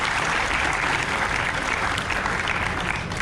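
Applause from an audience for a speaker at a society orientation event, dense steady clapping at a constant loud level throughout, with no talk heard over it.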